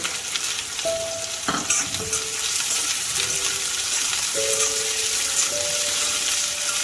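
Steady, crackling sizzle of onions frying in hot oil, with a few sharp clinks of a utensil stirring the pan.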